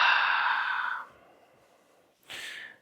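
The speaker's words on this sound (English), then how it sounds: "Long exhale out." A long audible yoga exhale lasting about a second, breathy and close, followed by quiet and then a shorter second breath near the end.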